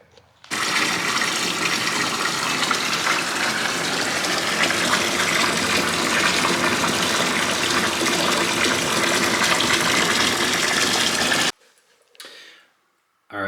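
Hard, brownish water gushes steadily through newly installed water softener plumbing, a loud, continuous rushing flow that runs for about eleven seconds, then cuts off abruptly into near silence.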